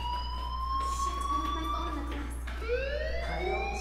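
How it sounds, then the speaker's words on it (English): A fire alarm sounds in the game Life is Strange, a loud wailing electronic tone that sweeps in pitch, steady and continuous over a low constant hum, with no talk. "do you hear that fire alarm?"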